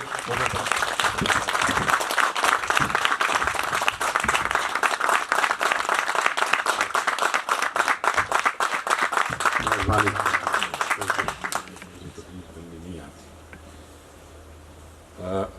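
A farewell-program audience stands and applauds in honor of a retiring official, dense sustained clapping for about eleven seconds that drops off abruptly, leaving quiet room murmur and shuffling.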